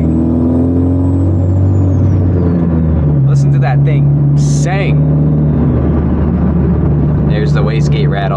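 A modified 500 hp Honda Civic Type R engine revs and pulls under load, a droning tone that climbs and shifts, with chirpy turbo and wastegate noises and a person talking over it.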